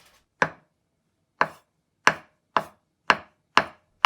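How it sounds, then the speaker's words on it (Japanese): A steel Japanese knife slices thin omelette on a cutting board in sharp, separate knocks, seven strikes speeding up into a steady rhythm, close by with no talking. "引き切りを気をつけるだけで千切りがとっても細くなります。"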